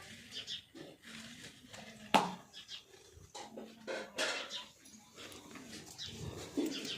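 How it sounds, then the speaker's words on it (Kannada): A dog nearby makes brief panting and whimpering sounds, with a sharp sound near the middle, mixed with intermittent household noise and a person talking. "ನಾಯಿ ನೋಡೋದು ನಾಯಿ ಬಂದಿತ್ತು"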